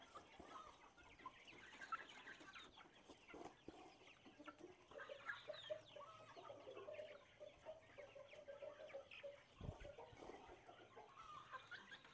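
Several native Indonesian village chickens cluck and murmur continuously at a quiet distance, with scattered soft scratching and rustling.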